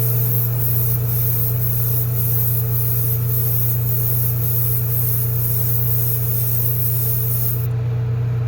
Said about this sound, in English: So we're going to turn the exhaust fan on and spray some paint.